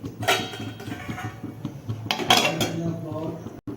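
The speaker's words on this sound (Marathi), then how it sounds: "मी आता याच्यावर झाकण ठेवून त्याला थोडंसं शिजवून देते" A metal lid is set onto a pot of spinach bhaji made with millet flour, with close clanking and clinking of cookware, a couple of sharper knocks over a low steady background.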